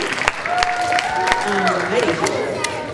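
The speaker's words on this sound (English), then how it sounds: "one more round of applause for these lovers" Children clap together at an elementary school morning assembly in a gym-like hall, a dense steady patter of small hands lasting the whole stretch, with scattered voices and adult talk mixed underneath.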